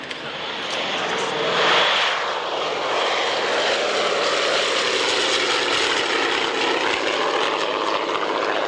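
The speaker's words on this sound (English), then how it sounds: "our elderly transport aircraft." Elderly transport aircraft flying at the Woodford Airshow in 1994, a loud, broad engine roar with a shifting pitch as it passes overhead, steady for several seconds.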